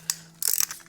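Close ratchet clicking on an oil filter socket while removing the oil filter on a Husqvarna garden tractor: one short click followed by a quick, dense run of ratcheting.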